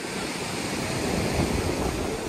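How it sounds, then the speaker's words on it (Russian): A light breeze off the Black Sea at a Sochi beach on a hot September day, a steady broadband rush of wind against the microphone with faint surf beneath, continuous and fairly loud with no talk. "С моря дует легкий ветерок."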